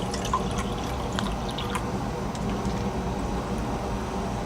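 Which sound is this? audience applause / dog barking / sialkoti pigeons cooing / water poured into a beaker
water poured into a beaker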